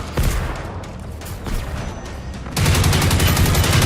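Gunfire and explosive shots in the video game Generation Zero: bursts of rapid shots crackle at a distance and then become a loud, continuous volley of close fire, with no talking.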